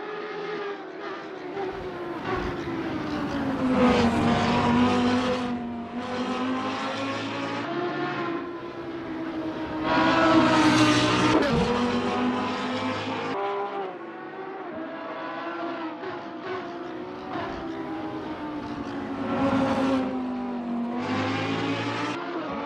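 Racing-game Lamborghini Huracan GT3 engine at full throttle along Spa's Kemmel Straight, a loud continuous howl climbing and dropping with upshifts, sustained with no voices.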